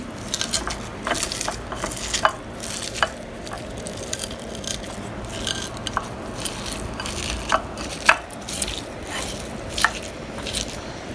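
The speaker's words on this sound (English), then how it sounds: "So you mash the onions with the salt and the chilies." Onions being mashed by hand with salt and soaked, softened red chilies for Agartala fish bharta: soft wet squishing and scraping strokes in a steady, close rhythm.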